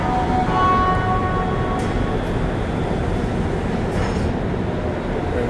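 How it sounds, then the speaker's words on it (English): Montreal Metro MR73 subway train running, a steady loud rumble with faint tonal whine, continuous and close throughout, with a faint voice briefly underneath. "typical MR73 train"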